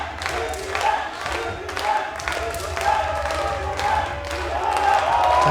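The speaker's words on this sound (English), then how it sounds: "now they're cheering up" Turkish team supporters cheer loudly at a women's 10 m air pistol final, a sustained crowd roar with clapping and rising shouts, heard under commentators talking.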